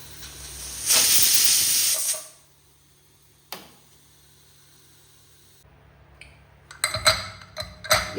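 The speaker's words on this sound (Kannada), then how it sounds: "ಈಗಿದು ಹೈ ಫ್ಲೇಮಲ್ಲೇ 2 ವಿಸಿಲ್ ತೆಗಿತೇನೆ" A pressure cooker on high flame lets out a loud, sustained burst of venting steam for about a second, then falls quiet, followed by a short hiss and scattered clicks and rattles.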